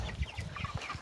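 A homestead rooster gives a short run of low, soft clucks while showing hens the food, close by and brief.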